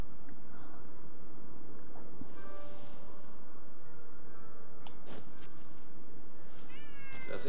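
Cats meow in the video game Ghostwire Tokyo: a few short, high meows near the end over a steady low hum of game ambience, with no talking.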